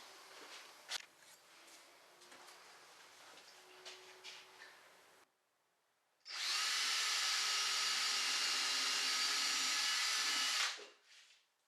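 A power drill driving screws into the legs of an outdoor storage box, a loud continuous whine of about four seconds after quieter handling clatter and a short pause.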